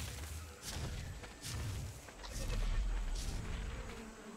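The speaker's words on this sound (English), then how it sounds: "Bees!" Bees buzzing in the survival game Ark Survival Evolved, a faint droning hum rising and falling in several swells over low rumbling background.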